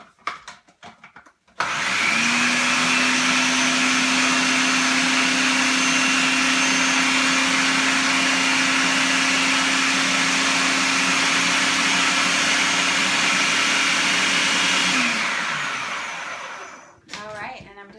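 Kitchen blender whirring through sweet potato hummus in one long steady run, loud and close, starting sharply and winding down at the end, with brief handling sounds before and after.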